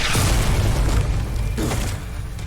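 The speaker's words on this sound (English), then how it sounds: "Rocket propelled grenades." A rocket-propelled grenade blast in an anime, a loud, low, rumbling boom that fills the whole moment and fades slightly toward the end, with no voices over it.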